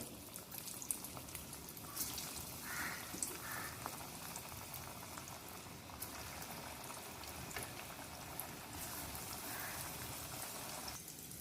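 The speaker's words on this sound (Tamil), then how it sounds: "இப்போ எல்லாத்தையும் நம்ம எண்ணெயில் போட்டுக்கலாம்" Steady, dense sizzling and crackling of raw banana balls frying in hot oil, continuous and fairly even throughout with no voices.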